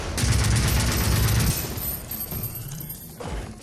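Rapid automatic gunfire from a fast-firing gun in an underwater-themed video game, a loud dense burst for about a second and a half that gives way to quieter scattered shots and game noise.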